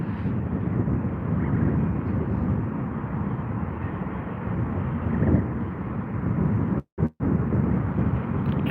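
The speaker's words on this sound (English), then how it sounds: "those Pratt & Whitneys do go straight into reverse here at London Heathrow" An Airbus A320 with Pratt & Whitney engines roars in reverse thrust on landing at London Heathrow, a loud, sustained low rumble with wind buffeting and two brief dropouts near the end.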